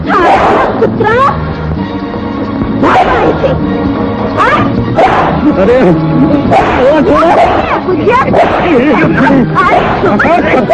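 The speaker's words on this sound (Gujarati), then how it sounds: "કૂતરા" Dogs in a Gujarati film scene bark and yip loudly and repeatedly under loud, excited shouting voices, with the calls and speech overlapping throughout.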